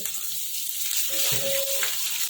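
Hot oil sizzles and crackles close up with dried red chili, cloves, cinnamon and green chili for a dal tempering, a steady bright frying hiss with a faint tonal whine in the middle.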